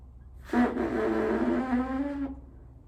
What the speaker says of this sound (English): you blow through it and you try to make your lips buzz a little bit.